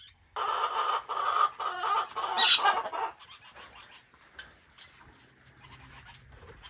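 Several chickens cluck and squawk loudly in a dense burst for a few seconds, then quieter scattered clucks and rustling follow outdoors.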